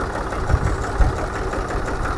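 Diesel tractor engine idling in running condition, a steady low mechanical rumble with faint knocking beats, continuous and fairly close, no voices.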